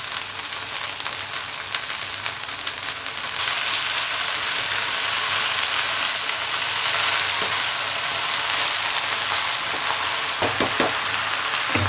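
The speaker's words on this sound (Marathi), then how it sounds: "आता टमाटर चांगला फ्राय झालेला आहे आता आपण त्यात मेथीची भाजी दोन टाकलेली" Chopped tomato and fenugreek leaves fry in a pan with a loud, steady sizzle, occasional scraping stirs and a few sharper clatters near the end; nobody speaks.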